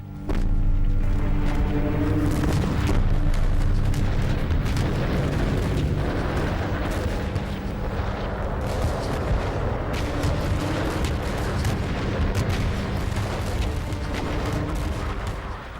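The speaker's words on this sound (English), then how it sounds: "Sergeant Tawney witnesses the final frenzied bombardment of the German line." A frenzied WWI artillery bombardment of the German line at the Somme rumbles continuously, with deep booms and bursts merging into a heavy, sustained roar, loud and unbroken with no voices.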